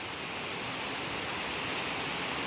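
Heavy, continuous monsoon rain pours down in a Philippine province, a dense, steady hiss of downpour on surfaces with no break or variation, loud and close, no voices.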